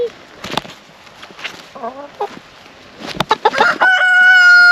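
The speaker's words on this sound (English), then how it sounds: "I didn't want you to spook those chickens." Hens cluck in scattered bursts, then a rooster crows loudly and close, its long call ringing out at the end.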